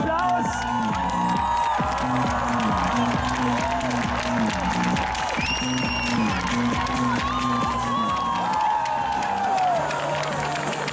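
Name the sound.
crowd cheering and applauding at Red Bull Flugtag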